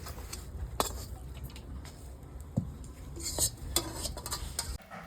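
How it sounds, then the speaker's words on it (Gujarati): A spoon stirs and mixes a thick sukhadi mixture in a pan, making steady scraping and clinking sounds with a few sharper knocks against the metal, close by. "હવે આપણે સારી રીતે મિક્સ કરી દઈશું."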